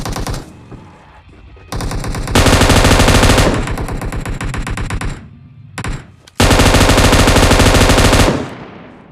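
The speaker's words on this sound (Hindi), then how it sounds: "तो यहाँ पर मुझे सुनाई देता है फायरिंग का साउंड" Automatic gunfire in a battle royale video game comes in long, loud, sustained bursts with short gaps between them, close and continuous, with no talk over it.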